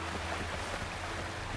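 Steady rushing waterfall in Wuthering Waves, a constant broadband wash of falling water, fairly soft and unbroken, with no talk over it.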